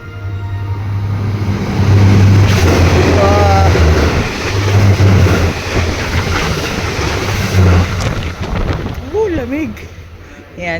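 A loud, sustained rumble of a fast train rushing past a station platform in Japan, with roaring wind noise and a few high squeals near the end.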